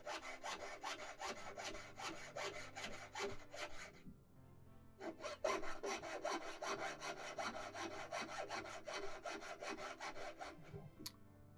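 A metal fork being sawn by hand while it is shaped into a sloth pendant. Steady, rapid rasping strokes run for about four seconds, stop briefly, then resume for another six seconds at close range. No one speaks.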